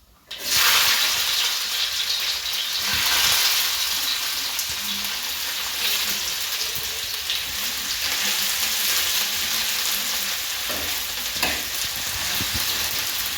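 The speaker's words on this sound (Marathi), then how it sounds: "आता मी कांदा टाकणार आहे." Onion drops into a hot pan and sizzles loudly and steadily for cooking a dry potato dish, a dense close hiss with occasional faint stirring knocks and no talk.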